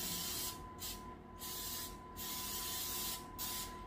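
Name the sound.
cooking spray sprayed onto baking pan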